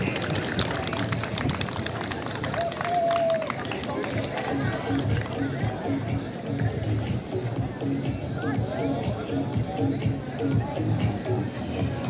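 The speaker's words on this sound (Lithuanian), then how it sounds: "pasveikinkime juos gausiais aplodismentais" Students and staff at a September 1 school-start assembly in a Klaipėda gymnasium give long, steady, dense applause that fills the whole stretch without a break.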